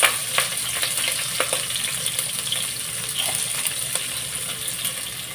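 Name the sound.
green chillies and onions frying in oil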